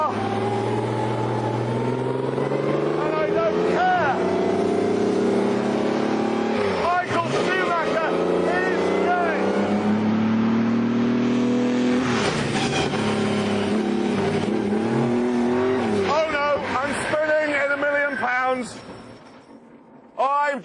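Maserati 250F racing car engine roaring loudly through a spin, with rising and falling revs and bursts of throttle, and voices talking over the engine noise.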